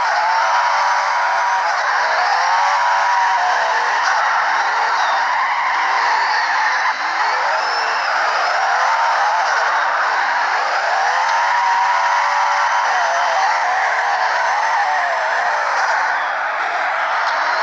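A car drifts in the CarX Drift Racing 2 video game, its engine droning loudly while the tires squeal in long, repeated skids that swell and fade in waves, with no voices.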